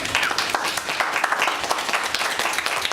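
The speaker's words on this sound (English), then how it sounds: "Let's give them a round of applause." An audience at a lunchtime zoning presentation applauds the presenters, a moderately loud, even crowd of claps with quick overlapping hand strikes that continues throughout the short stretch, with no voices over it.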